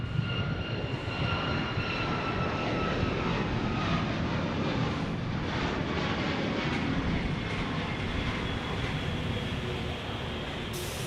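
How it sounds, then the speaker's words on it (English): A Southwest Airlines Boeing 737 Max in Canyon Blue livery takes off at Phoenix Sky Harbor Airport, a loud, steady jet engine roar that runs throughout. "Taking off, Southwest Airlines."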